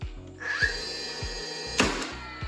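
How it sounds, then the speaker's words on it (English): A heavy-duty cordless stapler fires staples into wood in a few sharp, separate thunks close by, with a brief whirring tone between shots and no talking. "I borrowed this heavy-duty cordless stapler from my brother-in-law. So I'm gonna give it a try here and see how it works."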